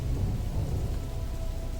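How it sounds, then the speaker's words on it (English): Steady heavy rain with deep rolling thunder in an indie video game, a dense continuous wash with low rumbling underneath, no voices. "it's raining."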